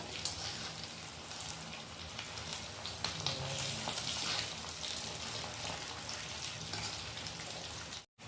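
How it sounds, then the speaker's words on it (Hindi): Taro root pieces fry in oil and are turned over, a quiet, steady crackling sizzle with soft patter throughout, cut off briefly near the end, no speech. "अरबी को हम अलट पलट के चारों तरफ से इनको फ्राई कर लेते हैं"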